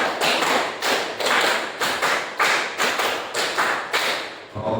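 A group claps in time, sharp hand slaps falling in quick repeated clusters of five across several rounds, loud and near with brief gaps between beats, and no talking.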